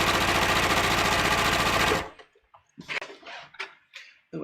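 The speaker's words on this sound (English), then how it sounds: "I'm going to put 2 rows of gathering, make my stitch length a little bit longer, maybe 4." A sewing machine runs a long-stitch gathering row, a loud, dense, steady whirr for about two seconds that then stops, leaving scattered quiet handling clicks and rustles.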